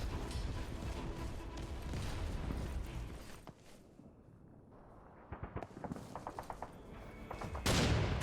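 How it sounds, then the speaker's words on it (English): A shotgun fires in the Serious Sam 4 shooter game amid dense, noisy combat, with mechanical clatter, a quieter lull, then a run of sharp shots and a loud final burst. "this is the shotgun, so I've already got a shotgun now"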